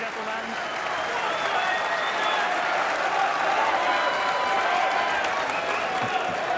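A packed snooker crowd at Alexandra Palace applauding, dense sustained clapping that swells and holds steady for several seconds, a big roar filling the hall.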